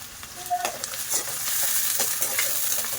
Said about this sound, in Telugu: ఈ ఆనియన్స్ మంచిగా వేగి గోల్డెన్ కలర్ రావాలండి